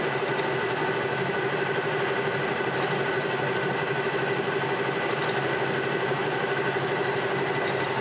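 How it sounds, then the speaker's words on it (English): A Monarch metal lathe turns steadily while cutting a chamfer on a threaded alignment pin, giving a loud, continuous machine hum with a fixed whine and rapid mechanical rattle throughout. "I just want to put a little chamfer on that side"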